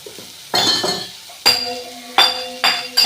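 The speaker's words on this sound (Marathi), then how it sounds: "खालीवरी करायचं आहे आणि हलवत राहायचं आहे" A spoon stirs cluster beans frying with spices in a pan, giving four sharp metallic scrapes and clinks spaced about a second apart over a faint sizzle.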